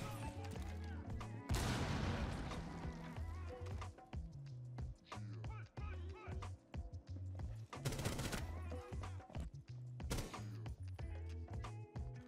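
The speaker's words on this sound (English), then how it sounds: "Why are they shooting at me through the wall?" Rapid bursts of gunfire from enemies shooting through a wall in a first-person shooter, loud automatic volleys and single shots clustering in dense stretches with brief gaps, accompanied by game music.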